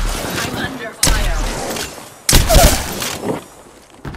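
Bursts of automatic gunfire in an Apex Legends battle royale match, two loud volleys with sharp onsets and a quieter crack near the end, over a continuous bed of game ambience.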